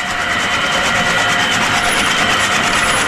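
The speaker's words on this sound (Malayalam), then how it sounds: "ഷാഫ് കട്ടറുണ്ട്" A chaff cutter running on a dairy farm gives a steady, loud mechanical whir with a rattling drone that never lets up, heard alone without speech.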